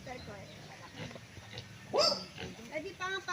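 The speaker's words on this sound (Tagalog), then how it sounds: "mga native na baboy" Native pigs on a rural farm lot in Liliw, Laguna give a few grunts and a sharp squeal, faint and mid-distance, with people talking quietly in the background.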